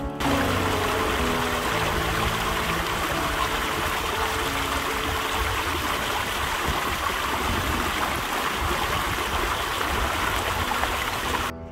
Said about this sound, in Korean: 계곡 물이 또 아주 시원하게 내려오고 있습니다